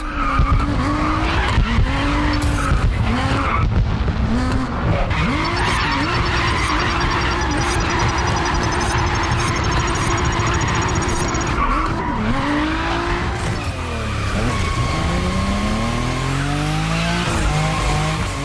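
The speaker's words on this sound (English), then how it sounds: "you can drift in this game if you know how to do it" A car drifts in a racing video game, with long, loud tyre squeals bending in pitch over a constant engine roar that runs throughout, several slides following one another.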